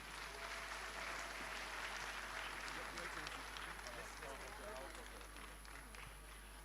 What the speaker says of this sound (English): A round of applause for them as they come.